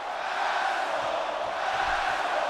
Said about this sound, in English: This crowd have no love lost for Roman Reigns. I thought that chant was reserved for the chairman of the board only